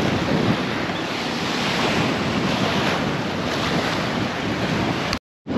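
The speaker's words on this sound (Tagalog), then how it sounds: "yung tunog ng alon" Ocean waves roll and break on an island beach in a loud, continuous surf roar, heavy wind buffeting the microphone throughout and a brief dropout near the end.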